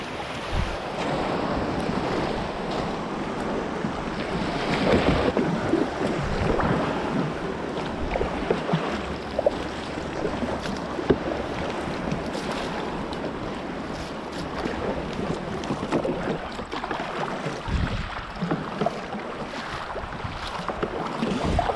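Choppy Sea of Japan waves slap and splash around a 10ft fishing kayak, close and constant, with gusty wind buffeting the microphone.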